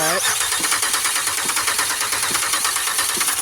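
A car engine cranks and catches, then settles into a steady, loud idle with a lumpy, rhythmic pulse.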